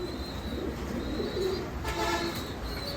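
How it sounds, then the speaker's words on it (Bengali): Domestic pigeons of good bloodline, kept as a hobby flock, coo in a soft, low, steady murmur that runs through the whole moment, with faint background noise and no talking. "এই তিন জোড়া হচ্ছে আমার সব থেকে ভালোবাসার কবুতর"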